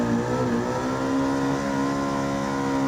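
Race car engine in Gran Turismo 7 held at a steady high drone in second gear, pulled down against the limiter rather than bouncing off it, with a continuous loud harmonic whine and no gaps.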